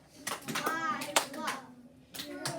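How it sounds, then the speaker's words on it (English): In a classroom, children clap out the syllables of their first names as they say them, with a few sharp hand claps mixed with young voices speaking at close range. "So say your first name and clap it."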